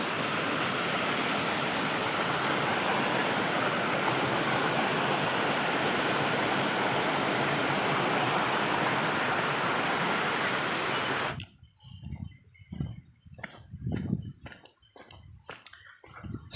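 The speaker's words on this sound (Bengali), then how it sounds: "তো এই হচ্ছে গিয়ে বামনি ফলস, এখান থেকে জলটা আসছে" Bamni Falls on Ajodhya Pahar in Purulia pours in a steady, loud broadband rush for about eleven seconds, then cuts off abruptly into quieter, uneven handling noises.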